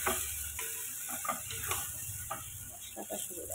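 Chicken goes into a pan of frying spice paste for chicken kosha, with a steady sizzle under clinking, scraping stirring strokes that are close and moderately loud.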